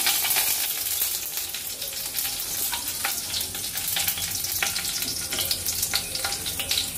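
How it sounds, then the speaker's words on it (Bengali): Dry red chillies sizzling in hot mustard oil in a wok, a steady crackling fry with scattered sharper pops throughout, close and fairly loud, no voices. "কড়াই দিয়ে দিচ্ছি শুকনো লঙ্কা,"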